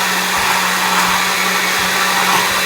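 A blender whirs loudly and steadily, mixing evaporated milk with sweetened condensed milk, then cuts off abruptly at the end.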